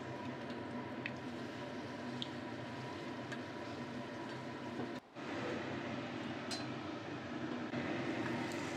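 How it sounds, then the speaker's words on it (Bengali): Puris deep-fry in hot oil in a pan, giving a steady close sizzle with faint pops and a brief dip partway through. "এবার এক এক করে পুরি দিয়ে ভেজে নিতে হবে।"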